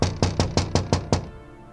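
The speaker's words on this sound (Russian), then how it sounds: "Почти без всяких сомнений это был звук удара кулака по стеклу." A fist knocks on window glass at night: six firm, evenly spaced raps in quick succession, close and loud, then a quiet room.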